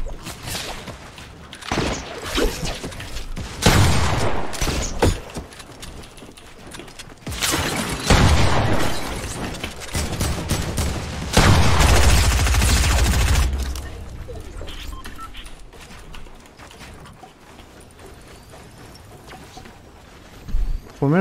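Rapid bursts of gunfire and booms from a shooter video game, loud clustered volleys around the middle with quieter single shots and whooshes in between, no talk over them.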